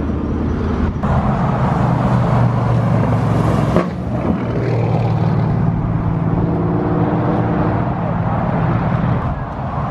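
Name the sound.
turbocharged car engine revving to the rev limiter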